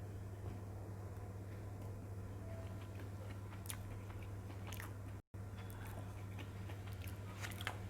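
Someone eats thatte idli mixed with onions, carrot and lemon, with faint chewing and soft crunches scattered over a low steady hum.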